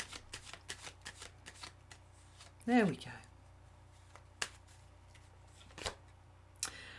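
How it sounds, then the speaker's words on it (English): Tarot cards are shuffled by hand in a series of quick riffles and soft flicks, fairly close and quiet, with someone speaking briefly in between. "one more little shuffle until the shuffling is done"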